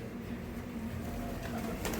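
Many pigeons packed into a full net give a faint, continuous murmur of soft coos with light rustling, steady throughout and without talk.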